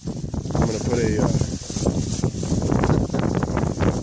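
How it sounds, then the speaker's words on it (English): Strong outdoor wind buffets the microphone in steady low rumbling gusts that run the whole time, with a person talking over it now and then. "it's really windy out here."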